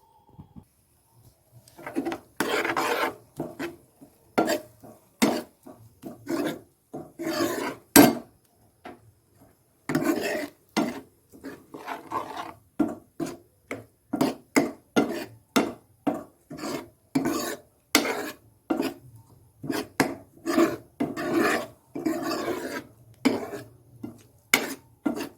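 Tarka with onion, chilli and egg cooks in a pan while a utensil scrapes and stirs in repeated rhythmic rasping strokes, some quick and some longer, close and clear with brief gaps between.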